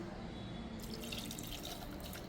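A glass of water poured into a cooking pot holding mutton with salt, cardamom, cloves and cinnamon, a continuous close splashing gush that brightens after a moment, steady and faint throughout with no talk.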